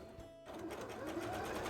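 Electric sewing machine stitching the layers of cosplay trousers, running steadily and close after a brief pause at the start.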